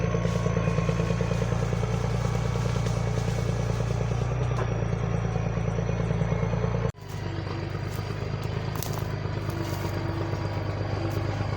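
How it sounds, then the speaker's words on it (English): A tractor's loud, steady diesel engine drone with rhythmic clattering as it drives along a new road, close and continuous, briefly dipping before carrying on as it keeps moving. "the tractor is coming through the new road right now"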